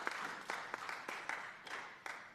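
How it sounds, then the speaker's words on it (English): Applause from members during a sitting of a legislative house, a brief run of scattered, fairly quiet claps in an irregular rhythm, sounding somewhat distant. "I think you deserve a round of applause."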